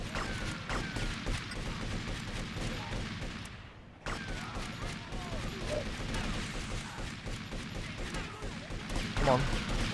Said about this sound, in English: Shoot him, Vic. Shoot him.